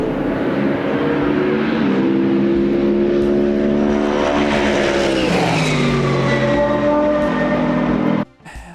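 Loud, close race car engine howling at high revs, its pitch climbing and shifting for several seconds before cutting off abruptly near the end.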